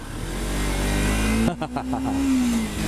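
A revving engine roars, then a rising and falling engine note continues, loud and close; the second half may be a voice imitating a motorcycle.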